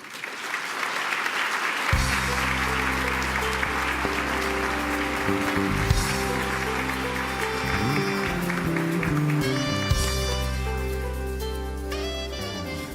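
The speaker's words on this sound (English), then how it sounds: "Let's have another round of applause for Sheila" An awards gala audience breaks into sustained applause that stays steady, while loud, bright music plays over it.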